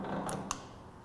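Lathe speed-range handle shifted into low, two quick, close metallic clicks about a fifth of a second apart over a quiet machine-shop hum.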